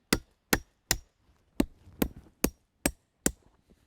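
Nails are hammered into a board at the end of a simple wooden firewood rack, giving eight sharp, evenly spaced strikes about half a second apart, close and distinct with no talking.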